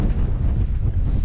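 Steady, loud wind buffeting the microphone at a wild camp on The Schill, a constant low roar with no other sounds.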